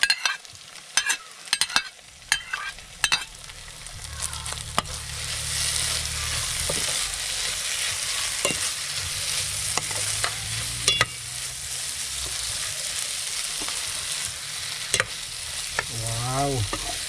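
Onions and chilies for sinigang and labuyo stir-fried in a pan, a steady loud sizzle broken by sharp clacks and scrapes of a utensil, with no voices over it.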